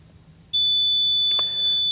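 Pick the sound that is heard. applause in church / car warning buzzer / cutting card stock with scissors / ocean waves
car warning buzzer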